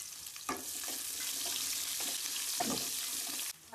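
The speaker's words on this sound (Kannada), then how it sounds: "ಮತ್ತೆ ಕರಿಬೇವು, ಹೆಚ್ಚಿಟ್ಕೊಂಡಿರೋ ಒಂದು ಈರುಳ್ಳಿನ ಇದೆಯಲ್ಲ ಅದನ್ನ ಹಾಕೋತೀವಿ" Curry leaves and chopped onion hit hot oil in a pan for a Goan mushroom xacuti, giving a steady, bright sizzle. Soft stirring scrapes and clatters sound over the frying.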